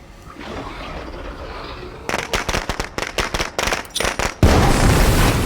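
A thrown explosive goes off at a plague heart in the zombie survival game State of Decay 2: a quick volley of sharp cracks ends in one loud, close blast.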